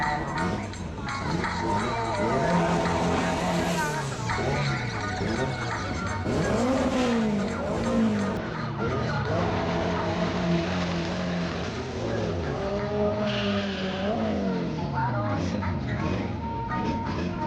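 A turbocharged GT drag car at a drag racing event revs hard with rising and falling engine tones, loud and close, with tire noise and a voice talking over it.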